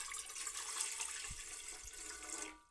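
Two cups of water poured into a pan for a home remedy tea, a steady splashing pour that runs close and continuous for a few seconds before tapering off at the end.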